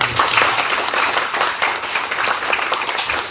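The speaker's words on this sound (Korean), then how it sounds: "감사의 박수 한번 드리겠습니다" A church congregation claps in thanks after testimonies, a dense, fairly loud wash of many hands clapping continuously and close, with no voices standing out.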